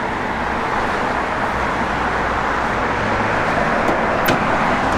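A 1967 Plymouth GTX with vinyl top and factory dual chrome mirrors rolls along the road, its engine and tyre noise forming a steady, fairly loud broadband rumble for the whole stretch, with no talk over it.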